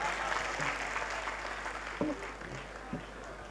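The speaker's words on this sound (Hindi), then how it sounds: "तालियां बजा सकते हैं आप" An audience at a Hindi comedy poetry show applauds in a steady continuous patter, fairly distant and soft, with a few voices heard over it.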